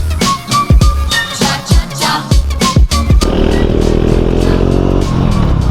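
Hero Xpulse 200 motorcycle riding off-road, with a steady close engine drone and road rumble; sharp clattering knocks punctuate the first three seconds before the engine noise evens out.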